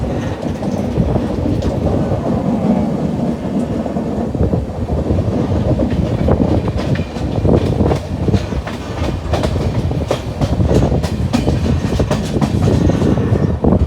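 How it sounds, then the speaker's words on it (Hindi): North East Express (12506) running on rails near New Jalpaiguri, a steady loud rumble of wagons with repeated clickety-clack wheel beats throughout, heard alone without talk. "ऑन टाइम न्यू जलपाईगुड़ी पहुंचने वाली है ट्रेन, नॉर्थ ईस्ट एक्सप्रेस"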